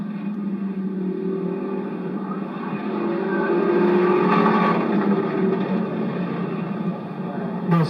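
Race cars roar down the backstretch of Lorain County Speedway in a 2001 cavalcade heat, a loud, steady engine drone that swells briefly as a pack passes.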